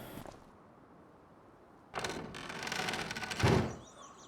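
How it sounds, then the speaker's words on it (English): A door is shut on a farm in Farming Simulator 25: after quiet, a rolling, scraping slide builds up and ends in a heavy thunk close by, followed by stillness. "Let's shut the door up. Shut everything up."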